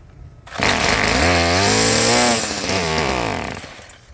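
A Stihl weed eater engine, dirty and with its carburetor needing adjustment, fires up after a brief quiet moment and runs steadily at high revs with a buzzing, wavering pitch, loud and close with no talking.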